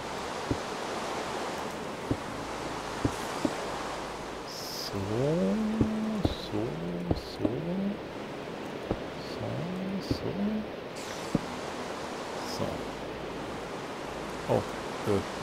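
Steady rain falls in the game Minecraft, a broad, even hiss lasting throughout, with scattered clicks and someone talking over it in short bursts.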